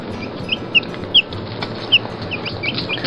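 Young chicks in a playpen chick pen give several short, high peeping chirps scattered over a steady low background hum, close and fairly clear.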